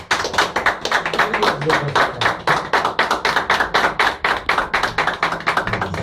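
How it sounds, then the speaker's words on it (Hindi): Loud, dense audience applause fills a hall at a company welcome event for a worldwide firm, sharp overlapping claps continuing steadily throughout. "मैं चाहता हूँ अपने लिए जोरदार तालियां हो जाए"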